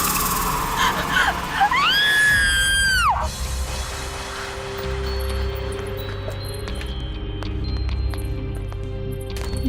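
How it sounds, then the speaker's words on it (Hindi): A woman's high, wavering scream rises and holds for a moment, then cuts off abruptly, leaving a low, steady background hum with no one speaking. "फिर ये चीख।"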